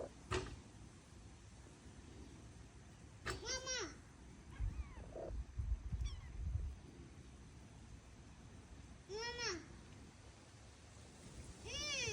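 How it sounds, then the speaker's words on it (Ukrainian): A few short, high meows from a cat, spaced apart, over quiet room noise with some low rustling in between. "Мама, мяу-мяу. Котик."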